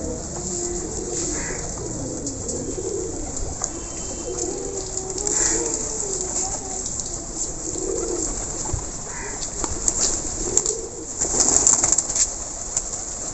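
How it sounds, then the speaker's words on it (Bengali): Several pigeons coo softly and repeatedly on a rooftop over a constant background hiss, with occasional faint chirps. "ছাদে এসে দেখো কত পায়রা ছাদে"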